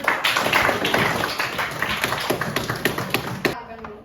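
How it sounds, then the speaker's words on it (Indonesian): A primary school class claps for a student group's story, many small hands patting in an uneven, fairly close burst that stops suddenly near the end, with children's voices mixed in. "Ada kita tepuk tangan lagi"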